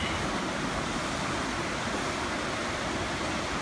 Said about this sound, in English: Not a lot of power to these waves right now.